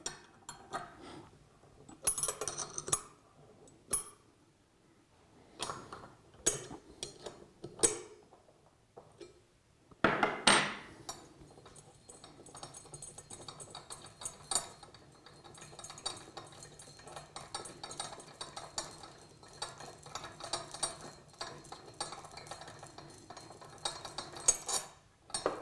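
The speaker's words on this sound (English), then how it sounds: "We have two bolts at the side which need to be undone." Side bolts being undone on a Flotronic One Nut pump body: scattered metallic clinks and taps of tools on bolts, then a denser stretch of small scraping and rattling metal handling, fairly close, with no talk.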